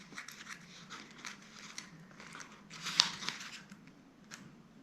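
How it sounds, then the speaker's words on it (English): Clear plastic film being peeled off a pressed flower bookmark, a faint, close crinkling and crackling that comes in short bursts, with one slightly louder rustle partway through. "I'm going to peel the plastic"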